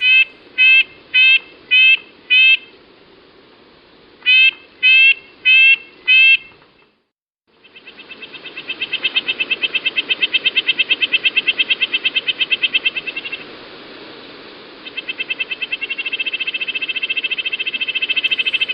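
A red-breasted nuthatch gives a series of short, evenly spaced nasal calls in two bursts, then a long rapid trilling run, clear and close over quiet background.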